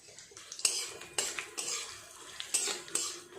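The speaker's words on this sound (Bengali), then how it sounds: "ফোড়নটা একটু নেড়ে চেড়ে ভেজে নেব।" Whole spices, cinnamon, cloves, cardamom, bay leaves, dried chillies and cumin, stirred and fried in oil in a pan for khichuri, with a metal spoon scraping and clinking against the pot in close, repeated strokes over a soft sizzle.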